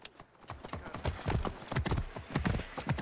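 Hooves of a horse in Assassin's Creed Origins thud in a quick, regular galloping rhythm, loud and close, continuing throughout with no speech.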